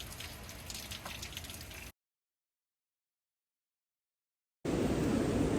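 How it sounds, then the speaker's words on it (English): Hurricane Ian's rain and wind drum against a Durston X Mid Solid 2P tent as a steady, soft patter with faint drips, broken by a stretch of total silence before a louder, denser rush resumes. "hurricane, the rain and the wind"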